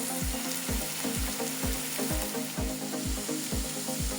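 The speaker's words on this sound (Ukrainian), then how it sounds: "Морквочку додали до цибульки і легесенько пасіруємо." Grated carrot and onion sauté gently in a pan, a soft, even sizzle cut by a regular beat of spatula scrapes and taps about every half second, with no one speaking.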